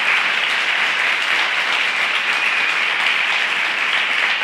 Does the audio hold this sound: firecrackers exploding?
no